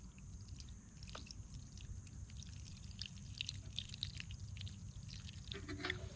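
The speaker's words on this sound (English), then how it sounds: "I'm going to fill about half of water." Water being poured into a pot at a hunting camp, a soft trickling splash running continuously under faint background noise and occasional clinks, fairly quiet and close.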